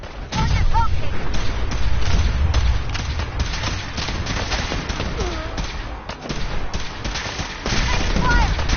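Gunfire in the video game Fallout 4, with loud, dense volleys of rapid shots and heavy booming impacts running almost continuously, lit by sharp cracks, with brief voices mixed in.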